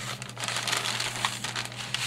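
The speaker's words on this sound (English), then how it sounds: "Let me get the other ones out of the bag here." A tall paper sack from Blick crinkles and rustles up close as colored pencils are pulled out of it, a continuous crumpling with small sharp crackles and no talking.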